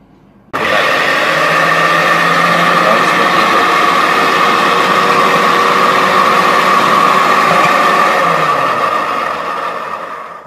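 A food processor motor runs steadily and loudly for about ten seconds, starting abruptly with a strong whirring hum and easing slightly near the end, with no talking over it.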